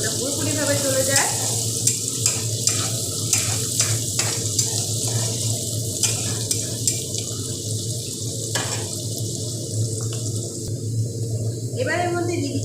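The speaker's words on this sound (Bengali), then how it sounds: "এবার এই মিডিয়াম স্টিমে প্রথমে এটাকে খুব ভালো করে ভেজে নেব, যাতে পেঁয়াজ আর রসুনের কাঁচা গন্ধটা পুরোপুরিভাবে চলে যায়" Onion and garlic paste frying on medium heat in a pan, a steady sizzle with bursts of stirring and scraping throughout, someone talking over it the whole time.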